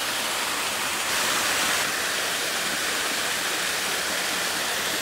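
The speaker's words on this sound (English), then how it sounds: "Near the waterfall." A waterfall roars steadily beside a fishing spot, a dense, even broadband rush of falling water that fills the whole clip without pause, close and loud.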